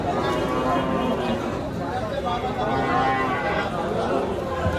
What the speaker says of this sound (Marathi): धुळे मार्केटमध्ये त्यांनी गाय आणलेली छान गाय.